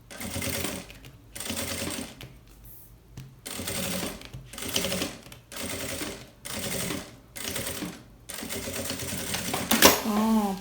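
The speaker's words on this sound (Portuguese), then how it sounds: "Agora, eu vou virar esse plástico pra cá e vou passar uma costura rebatendo aqui" A sewing machine topstitches a plastic clothing organizer in repeated bursts of rapid mechanical stitching, each about a second long and separated by short pauses, close and clear, with a person speaking briefly near the end.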